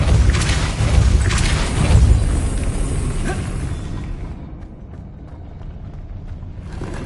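A heavy magical blast from the Depulso spell in the Hogwarts Legacy video game, a booming, crashing burst with debris-like rumble that swells over two seconds, then fades to a low hiss.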